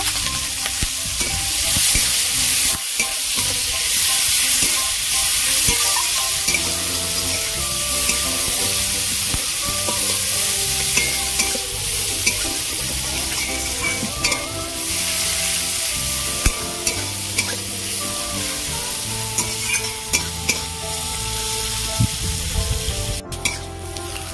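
Chopped onion and slit green chilli frying in oil for a koi fish curry, a continuous loud sizzle broken by spatula scrapes and taps throughout, with no talking.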